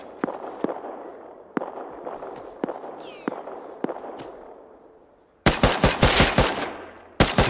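A Thompson submachine gun fires in the survival video game Rust, first as distant single cracks and short bursts spaced apart, then a loud close rapid burst near the end.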